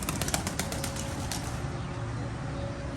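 Pigeons released outdoors, a quick burst of wing flapping at the start that fades as the birds fly off, leaving faint background ambience.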